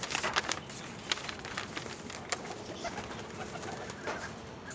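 Pigeons in a loft give soft, low repeated coos, faint and close, with light fluttering and scratching sounds between calls and no voices.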